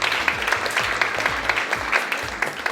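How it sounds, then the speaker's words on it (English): A fashion show audience at House of iKons claps for themselves, a moderately loud, continuous burst of many hands with some individual claps standing out. "So I think you should give a round of applause to yourselves."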